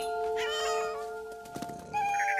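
A cat meows in the What Remains of Edith Finch video game, a couple of short, close cries over sustained musical tones.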